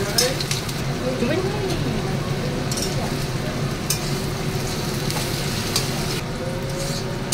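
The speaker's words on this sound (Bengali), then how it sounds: "এবার পেঁয়াজটা আমি পুরো ভাজা হয়ে যাবে।" Chopped onions frying in oil with dried chilli and bay leaf in a home kitchen, a steady broadband sizzle running throughout with occasional stirring clinks, while a person talks over it.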